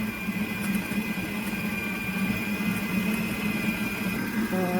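A stand mixer works bao dough with a dough hook, giving a steady motor whine and drone with an even, continuous hum throughout at close range.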